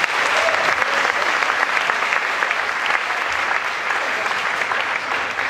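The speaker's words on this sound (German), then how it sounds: "Ein Applaus bitte für unsere Moderatorin." An audience at a science slam in Darmstadt claps loudly for the moderator, a close, steady burst of applause with a few voices mixed in.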